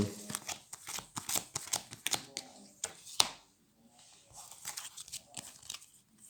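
Cards being drawn and shuffled during a board game, giving a quick series of crisp papery flicks and snaps, close and moderately loud, then quieter handling toward the end.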